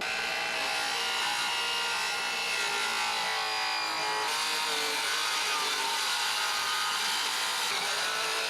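Steady scraping and cutting through old 5200 marine adhesive beneath the deck cap of a Key West 1700 project boat, a continuous gritty rasp with no pauses, close and fairly loud throughout.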